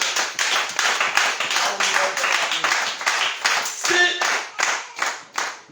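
Congregation clapping together in a steady rhythmic beat during a morning worship service of praise, dense and continuous hand claps filling the room with voices singing or calling faintly underneath.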